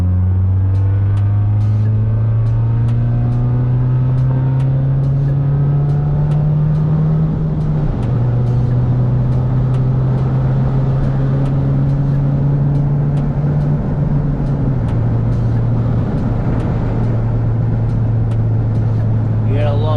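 Steady engine drone of a Hyundai Tiburon cruising along a road, with a constant low hum, road rumble and wind that shift pitch slightly as it goes.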